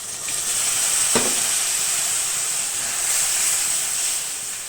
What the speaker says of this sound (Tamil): இப்போ இந்த புளியிலையும் உப்புலையும் சேர்ந்து இந்த கர்ணக்கிழங்கு வந்து ஒரு ரெண்டு நிமிஷம் இல்லை ஒரு மூணு நிமிஷம் நமக்கு நல்லா வதங்கட்டும்